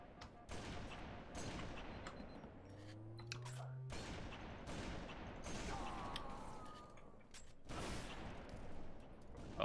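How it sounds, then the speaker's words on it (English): Sniper gunfire in a first-person shooter video game, with several sharp shots and bursts cutting through busy in-game noise, alongside other weapon and mechanical sounds, loud and close. "I sniped Big Nutter"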